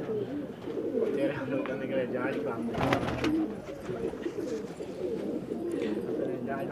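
Ornamental pigeons, including a tie-marked bird and tumbler pigeons, coo in a low, rolling murmur that runs steadily throughout, close by, with a voice talking over the birds.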